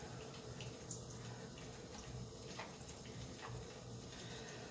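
Water running steadily from a tap while hands are rinsed during handwashing, a faint continuous stream with a few soft splashes and no one talking.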